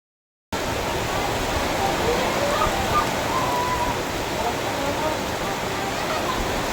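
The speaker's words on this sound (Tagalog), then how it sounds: "Malakas na ang ulan, malakas pa ang hangin" Heavy rain and strong wind sweep across a fog-bound mountainside, a dense, steady roar that starts abruptly and holds unbroken for several seconds with no pauses.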